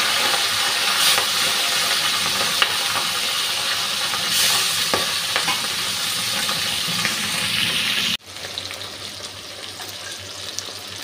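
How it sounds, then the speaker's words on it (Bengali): Small river fish rubbed with salt and turmeric fry in hot oil in a pan, a steady dense sizzle with crackling pops close up, continuing loud and then dropping abruptly to a softer hiss. "নুন হলুদ মেখে এখন মাছটা ভাজতে দিয়ে দিচ্ছি।"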